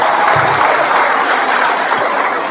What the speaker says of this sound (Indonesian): Tepuk tangan dulu buat anak muda.